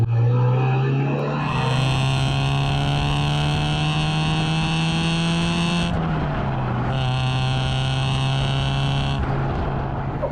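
A roofless project car's engine running, a loud, steady mechanical drone that shifts pitch slightly around the middle and then holds, with wind noise in the background.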